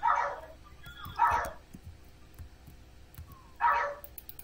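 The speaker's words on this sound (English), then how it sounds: "I might actually lose it if the dog doesn't shut up." A dog barks in the background during a Roblox Bedwars gaming session, three loud, separate barks a second or two apart with some softer whimpering and room noise between them.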